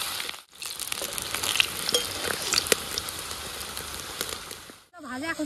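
Chicken pieces fry in hot oil during a picnic, a loud close crackling sizzle with scattered pops and stirring that briefly drops out, and a voice begins talking at the very end.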